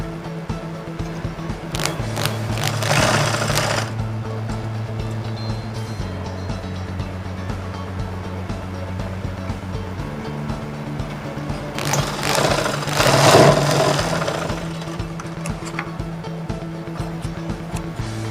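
A sewing machine stitches a blouse neck piece with cross stitching, running in a low steady motor hum that steps in pitch, with two louder bursts of rattling stitching. It sounds close, and there is no talk.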